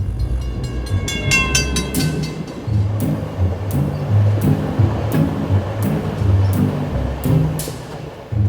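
A train rolls steadily along the rails in France, with continuous low rumble and a regular clickety-clack of wheels over joints. Brief high squeals come early on, and no voices are heard.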